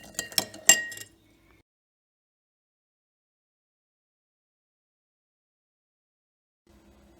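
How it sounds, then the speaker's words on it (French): A spoon clinks against the inside of a glass while stirring table salt into water, a quick burst of close, bright tinkling taps lasting about a second, followed by near silence. "à chaque fois, je vais mélanger jusqu'à dissolution complète de mon sel"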